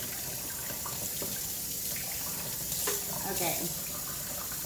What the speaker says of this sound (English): If there's a gap in there, rinse it out. Rinse the inside out.